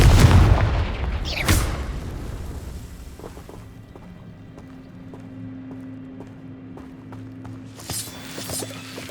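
A Confringo blasting spell goes off in the video game Hogwarts Legacy, two sharp booming blasts in the first two seconds, followed by a quieter stretch of low game ambience and a few light clicks.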